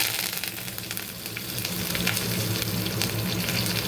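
Asafoetida and a sprig of curry leaves hit hot oil for a Rajasthani spring onion sabzi, making a loud, dense, steady sizzle close up with no voices.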